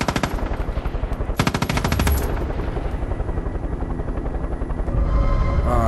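Rapid automatic gunfire from the video game Far Cry rattles loudly in bursts, layered over a continuous roaring engine-like drone, with no voices.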